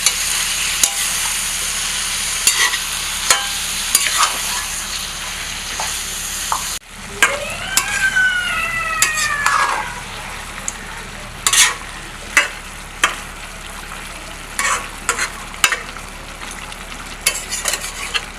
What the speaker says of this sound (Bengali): এবার মাংসটাকে খুব ভালো করে কষাবো।